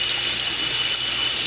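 Tap water gushes steadily into a basin being filled for a cockatiel's bath, a loud, even, close hiss with no voices over it.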